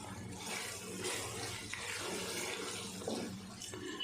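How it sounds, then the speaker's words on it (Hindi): Water sprinkled into a hot cooking pan of potatoes and spices splashes and hisses briefly, with a sizzling, running-water texture and a few sharper spurts, moderately loud and close. "ज़रा सा पानी का छींटा लगाएंगे।"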